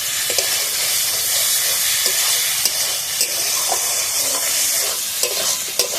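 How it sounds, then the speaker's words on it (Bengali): Small field snails and potatoes frying in a spicy curry, a dense, loud continuous sizzle and hiss with scattered soft stirring knocks throughout. "শামুকটা দিয়ে দেবো, দিয়ে একসাথে ভালোভাবে কষিয়ে নেব"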